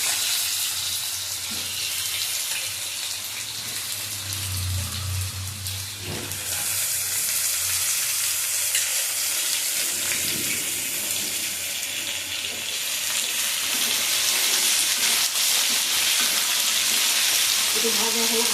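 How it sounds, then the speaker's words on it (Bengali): Steamed gathi (taro) fries in oil with panch phoron and bay leaves, giving a steady broadband sizzle and hiss that swells and eases as the pan is stirred, with no voices over it. "এবার গাঠিটা পাঁচফোড়ন দিয়ে তেজপাতা দিয়ে ভেজে নেবো।"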